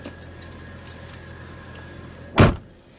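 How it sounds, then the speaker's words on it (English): A bunch of work keys gives one brief, sharp metallic jangle close by, standing out against a quiet room background. "This is work keys."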